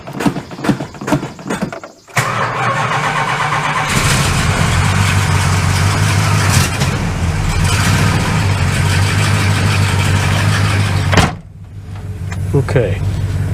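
A Dodge Magnum engine cranks briefly and catches, then settles into a steady, loud idle that drones for several seconds before cutting off, with a short mechanical rattle right at the start.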